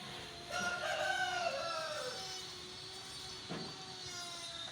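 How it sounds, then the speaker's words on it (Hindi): A desi rooster crows once on a poultry farm, a long drawn-out call at moderate distance over a steady background hum, followed by quieter ambient noise. "ये मुर्गा है, ये वाला मुर्गा है"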